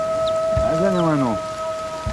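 Rain hisses steadily as the weather turns wet in rural Talesh, Gilan, with a brief harmonic animal call rising and falling partway through the downpour.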